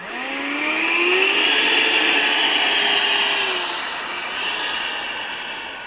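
An RC model F-5 jet taxiing on muddy ground, a loud, steady turbine whine with a rising pitch sweep that swells in the first seconds and then eases slightly.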